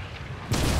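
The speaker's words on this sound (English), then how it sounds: "Fire the right cannons!" Ship cannons fire in the video game Blazing Sails, a sudden loud boom bursting in halfway through over a low ambient rumble, then sustaining as a heavy roar.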